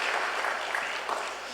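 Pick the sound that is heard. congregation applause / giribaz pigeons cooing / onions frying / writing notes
congregation applause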